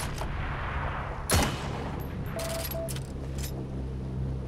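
A single sharp sniper-rifle crack in the video game Heroes & Generals, fairly faint and brief against a low, steady background hum.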